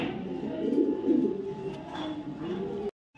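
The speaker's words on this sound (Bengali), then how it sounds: "এখানে দেখাবো একজোড়া সাকি ডেরি কবুতর" A pair of Shaki Derry racing pigeons coo close by in soft, rolling low bursts, two stronger coos followed by quieter murmuring.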